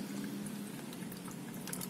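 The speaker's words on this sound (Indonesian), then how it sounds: "isi dengan air" Water poured into a painted plastic bottle with a hole in its base, used for growing hydroponic oregano; a quiet, steady splashing trickle lasting about two seconds with no voices.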